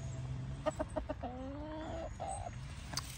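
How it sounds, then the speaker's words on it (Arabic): Several chickens and roosters kept on a small farm in France cluck in a quick run of short calls, followed by drawn-out, wavering crowing-like notes. The birds sound fairly close over a steady outdoor background hum. "هاي 3 دجاجات وديكين."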